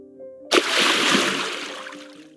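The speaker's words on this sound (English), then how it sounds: "Select splash movement 2 and place it where the fruit drops into the liquid." Fruit dropping into liquid as a splash sound effect: a sudden loud plunge followed by a fading slosh and gurgle, over a faint background tone.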